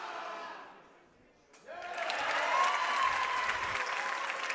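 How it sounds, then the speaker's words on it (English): A high school boys basketball crowd bursts into loud, sustained cheering and applause after a free throw, swelling suddenly from a quieter arena murmur and holding steady. "We'll let the crowd tell you the result."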